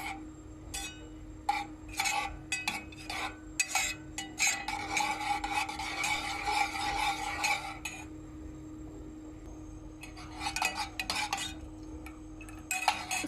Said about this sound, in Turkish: 100 milim sıvı kremamızı bir cezvenin içerisine alıp karıştırarak ısıtıyoruz